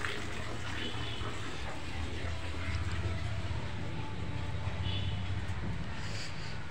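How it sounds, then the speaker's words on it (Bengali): Water falling and splashing onto an indoor floor, a steady low rushing patter, fairly quiet and continuous. "আবার ফ্লোরে জল পড়ছে এখানে"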